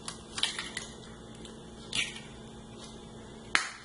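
Eggs cracked one after another for chicken pizza dough: three sharp, close cracks spaced a second or more apart over a faint, steady background hum.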